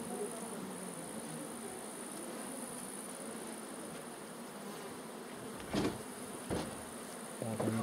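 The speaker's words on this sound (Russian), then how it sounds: "Пчелочки." Honey bees buzz at a beekeeper's apiary, a continuous close hum that holds steady throughout, broken near the end by a few brief thumps and rustles.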